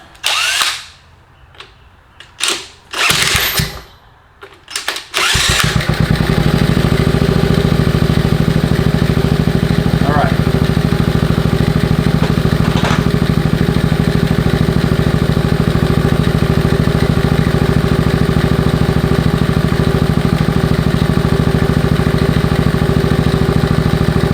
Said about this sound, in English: So I'm going to idle it a little bit more to let that cylinder and piston break in.